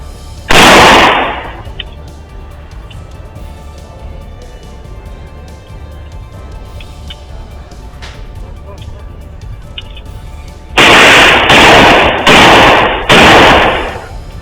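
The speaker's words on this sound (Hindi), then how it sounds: "एक बदमाश ने थाली से 2 पिस्टल निकाली, घर की तरफ बढ़ा और 4 गोलियां दाग दी।" Pistol gunfire outside a house: one loud sharp shot, a long stretch of low background, then four rapid shots in quick succession.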